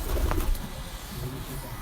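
Pigeons at a loft give low, rolling coos at moderate distance, steady and unhurried against faint room noise.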